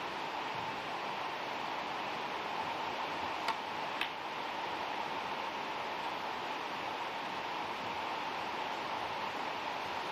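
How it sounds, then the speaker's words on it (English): Heavy rain drumming on the roof of a snooker championship venue, a steady even hiss of downpour filling the room at moderate level, with a couple of faint ticks and no talk. "The heavy rain hitting the roof."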